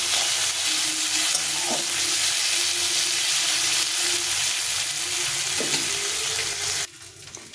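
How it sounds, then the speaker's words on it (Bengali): Onions frying in oil in a pan while a Bengali fish curry is cooked, a steady close hiss and sizzle running throughout before cutting off near the end. "পেঁয়াজটাকে একটু লাল লাল করে ভেজে নিতে হবে"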